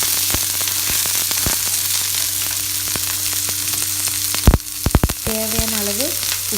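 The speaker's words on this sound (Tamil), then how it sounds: "மஞ்சள் பூசணி, அதையும் ஆட் பண்ணிவிட்டு நல்லா மிக்ஸ் பண்ணி விட்டுடலாம்." Yellow pumpkin pieces are tossed with sautéed onions in a pan for a dry stir-fry. A constant hissing sizzle runs under a low hum, with a cluster of clattering stirring knocks near the end.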